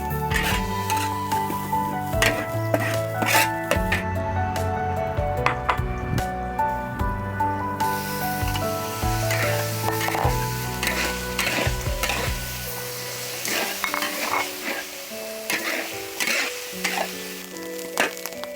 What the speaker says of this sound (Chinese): 接下来把盐菜再倒下去炒干水